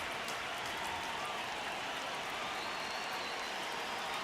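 A baseball stadium crowd in the video game MLB The Show 26 keeps up a steady, dense roar throughout a tense ninth inning of a one-run game.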